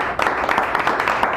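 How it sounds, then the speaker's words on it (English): An audience at a poetry reading in a San Francisco café claps for the keynote speaker, a short burst of close, steady applause. "Give him a round of applause."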